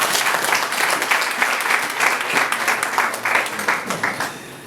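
An audience at a Swahili-language gathering breaks into sustained applause, many hands clapping in a dense, uneven roar that keeps going before tapering slightly at the end.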